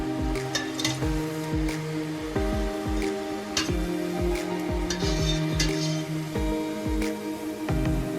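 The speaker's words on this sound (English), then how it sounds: "they're only taking about like 10-15 seconds each to cook, so yeah, they cook really, really fast." Churros frying in hot oil, a steady crackling sizzle punctuated by frequent sharp pops and bubbling bursts throughout, close and moderately loud with no talking.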